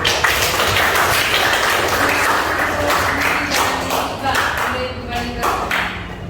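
Classroom audience of students applauding after a group presentation, a dense continuous patter of many hands clapping with a few murmured voices underneath, loud and steady before easing slightly toward the end.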